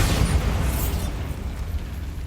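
The Bombarda blasting spell going off in Hogwarts Legacy, a loud, deep explosive burst with a rumbling low end that fades slowly over a couple of seconds.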